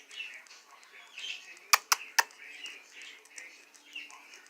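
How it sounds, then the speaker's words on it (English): A pet canary that seems unwell gives a few faint, scattered chirps indoors, with three sharp clicks in the middle and quiet background noise throughout. "He's a canary."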